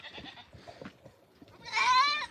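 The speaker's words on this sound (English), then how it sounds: "Hi goats, I'm coming to say hi to you guys before I go to bed." A goat in a farm pen at night gives one loud, close bleat after some soft rustling and shuffling.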